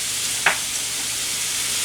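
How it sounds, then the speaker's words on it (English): Halved, cored pears sizzling in a skillet, a dense, even hiss close by, broken by one brief clink of a utensil. "I've already got some sizzling in my skillet."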